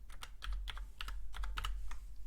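Quick, light keystrokes on a computer keyboard, a close, irregular run of clicks with short pauses between them, and no talking.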